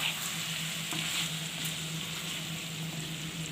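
Masala pasta sizzles in a hot pan while being stirred, a steady frying hiss with soft scraping and stirring sounds, close and moderately quiet, without speech.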